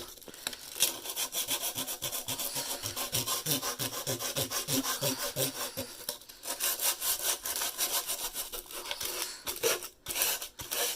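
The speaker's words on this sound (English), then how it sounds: "I'm just gonna take the sandpaper that I bought and then just kind of rub it on the spot." Sandpaper rubbed back and forth over a wooden basket to smooth frayed wood, a dense rasping scrape in rapid strokes that runs almost continuously, close and steady, with brief breaks near the end.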